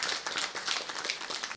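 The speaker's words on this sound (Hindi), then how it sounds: "इनके लिए ज़ोरदार तालियां" A crowd claps loudly and steadily at a Rudra Abhishek ceremony held at La Laura, forming a dense, continuous wash of applause with no talk.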